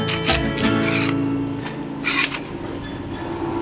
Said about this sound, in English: the wax mixture on top has gone hard and needs to be scraped